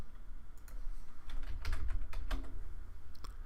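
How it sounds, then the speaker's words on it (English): Someone types a Steam CD key on a computer keyboard: a quick, uneven run of close, crisp keystrokes, with a few louder clustered presses near the middle and no voices. "I'm going to go ahead and type it in because I know what it is"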